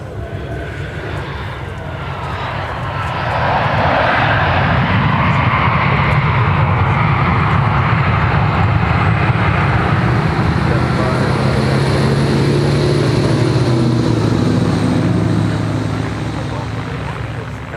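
A Boeing 757 airliner going around at Minneapolis–St. Paul Airport, its jet engines a loud, sustained roar that swells in, holds for about ten seconds, then eases off, with a voice talking over it.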